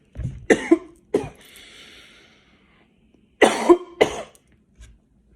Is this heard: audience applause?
no